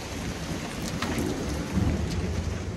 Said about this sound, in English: Yeah, look at all that rain, guys.